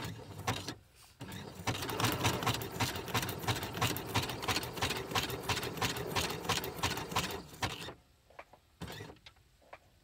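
A sewing machine runs steadily, stitching a small embellished envelope made of music paper. The needle chatters rapidly and evenly for about six seconds, then stops, followed by a few quiet handling clicks.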